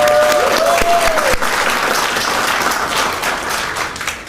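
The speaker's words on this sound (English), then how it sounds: "Let's applaud that." An audience at an awards-style ceremony bursts into loud, dense applause that holds steady, then thins and tapers off toward the end, with a faint voice briefly over the start.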